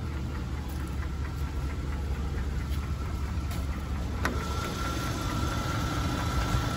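A 1988 Cadillac Fleetwood Brougham's 5.0 engine idles with a steady, quiet low rumble, constant throughout with faint clicks and no talking.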